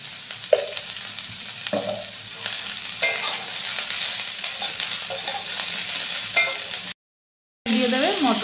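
Vegetables sizzling and being stirred in a pan for oats khichdi, with soft frying crackle and intermittent scraping strokes, fairly quiet, a brief gap of silence near the end.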